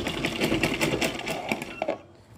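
Electric sewing machine stitching a beltless salwar, running in a steady, rapid, close-up whir with a fast mechanical rhythm that slows and stops near the end.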